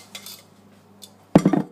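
A metal whisk is set down among kitchen utensils, a short cluster of bright metallic clatters and clinks after faint, soft handling noises, close and alone.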